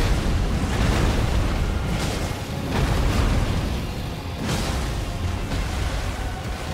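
A Jagged Peak Drake in Elden Ring breathes fire forward: a loud, sustained roaring rush with several surging bursts, dense and unbroken throughout.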